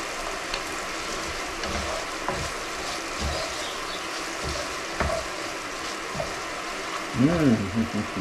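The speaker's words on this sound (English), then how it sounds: "You hear the crackling of the fat" Fat crackles and sizzles in a pan while a cheesy paellotto cooks, a steady close frying hiss with scattered pops, and a brief stir or pour near the end.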